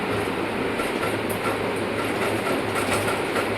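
A Singer sewing machine running in reverse for back-stitching or darning makes a steady, close mechanical whir with a fast, even clatter underneath, continuous and with no speech.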